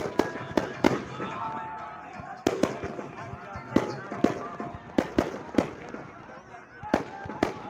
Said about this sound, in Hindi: तो देख जेती पटाखा फूटा संगवारी हो